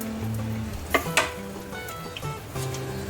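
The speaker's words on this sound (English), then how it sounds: "and 3 cloves. Let's stir it for a second." Whole cloves and spices sizzle in hot oil in a pan while being stirred for an eggplant biryani, a steady soft fry with a few sharp clinks and scrapes of the spoon against the pan.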